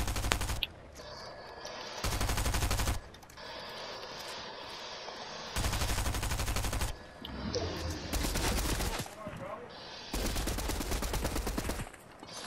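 Sustained bursts of automatic gunfire in a shooting video game come in several long, loud volleys of about a second or more, separated by quieter gaps with softer game sounds.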